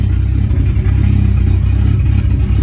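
An engine running with no exhaust fitted roars very loudly and close, revving in a steady, rough drone with clattering throughout the whole stretch; no voices.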